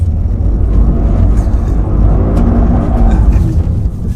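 A Toyota GR Corolla's engine roars continuously while the car spins a donut, a loud, rough, steady drone with no talking.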